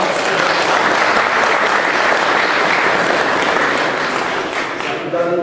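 A hall full of people applauds sailing award recipients at a season-end sailing club awards ceremony, with steady, dense clapping throughout that eases slightly near the end.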